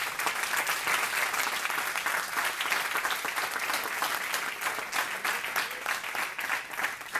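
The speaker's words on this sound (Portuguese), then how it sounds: "Aplauda o Senhor por isso." Steady, dense applause from a Sunday worship congregation fills the whole stretch, many hands clapping at once at an even, moderate level with no talk over it.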